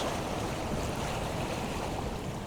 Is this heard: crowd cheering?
no